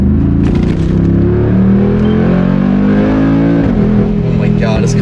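A loud car engine idles and revs up close, its deep rumble rising and falling, with a voice briefly over it.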